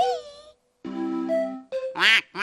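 A cartoon duck quacks in a children's show: a voice imitates several nasal quacks in short bursts, loud and close, with brief pauses between them.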